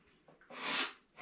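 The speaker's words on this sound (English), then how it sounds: "Sorry about the sniffles." A single close, breathy sniffle, a short rushing inhale through the nose that swells and fades.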